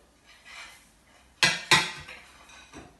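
A cooked chapati is lifted off the pan and plated, with two sharp metallic clanks of a utensil against cookware between soft shuffling handling noises, close and otherwise quiet.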